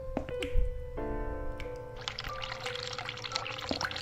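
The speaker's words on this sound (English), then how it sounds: "Run the hot water?" Hot water running from a tap in the video game The Cat Lady: a steady pouring and splashing stream that begins about halfway through, with sustained low musical tones underneath.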